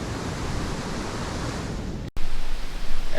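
A waterfall at Daringbadi rushes as a steady, loud, broadband roar of falling water, close and continuous, with a brief dropout midway followed by gusty microphone buffeting.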